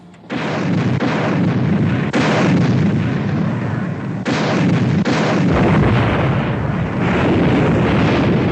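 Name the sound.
depth charges exploding underwater in a war film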